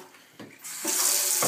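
Faucet turned on to bleed a hot water recirculator, water hissing out after a few clicks and building into a steady, close, bright rushing stream.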